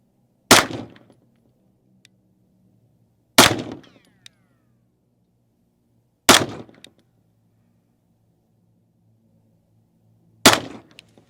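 Four loud, sharp pistol shots from a Staccato HD fired at a target, evenly spaced about three seconds apart, each with a short ringing decay into near silence.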